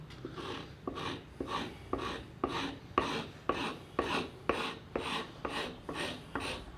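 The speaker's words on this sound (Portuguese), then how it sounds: "Eu uso o formão como se fosse um raspilho." A wood chisel works as a scraper, levelling a hardwood surface along a step line before sanding. About a dozen close, even rasping strokes repeat in a steady rhythm, each a short scratchy pass with no talking.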